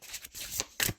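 A playing card is drawn from a deck for a card reading: a couple of quick papery slides and flicks close to the mic, with brief shuffling texture and no speech.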